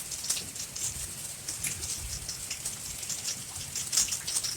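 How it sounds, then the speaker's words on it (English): Steady, dense rain from the start of Hurricane Dorian hisses and patters on surfaces nearby, a constant wash of drops with no voices. "Rain kind of pretty heavy."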